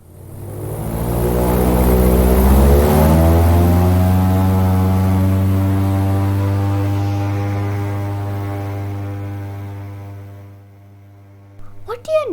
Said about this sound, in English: So Tanea, what do you think will make the noise? It's the propeller that generates wind